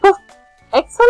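A voice imitates a dog barking, giving two short, loud woof sounds separated by a brief pause, close to the microphone.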